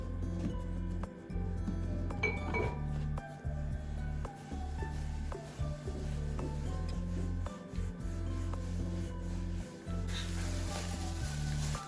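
Rolling pin working unyeasted börek dough on a floured surface, a steady low rubbing and rasping roll repeated in back-and-forth strokes with brief pauses, close and continuous with light clinks.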